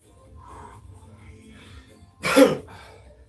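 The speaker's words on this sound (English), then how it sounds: "I'm gonna blow my nose." A single loud, broadband nasal blast of a nose being blown, lasting about half a second after quiet background murmur, with a short snuffle following.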